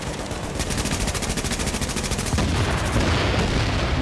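Sustained automatic gunfire with explosive ammunition in the video game Tom Clancy's The Division: a loud, rapid, even stream of shots, then a heavier, denser burst of blasts toward the end.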